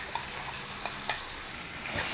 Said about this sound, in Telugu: ఈ ఆనియన్ పేస్ట్ ఈ ఆయిల్లో కొంచెం ఫ్రై అవ్వనివ్వాలి.